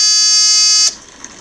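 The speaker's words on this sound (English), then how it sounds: "that's just hooked up to a little buzzer for the professional buzzing sound" A small electronic buzzer on a DIY RFID door lock sounds one loud, steady harsh buzz for almost a second, then cuts off abruptly, leaving quiet room noise.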